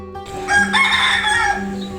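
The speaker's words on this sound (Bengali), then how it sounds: "মোরগের ডাক শুনতে শুনতেই আপনাদের মধ্যাহ্ন ভোজন হবে" A rooster crows once at a resort in Mukutmanipur, loud and close, its call rising and holding for about a second before trailing off.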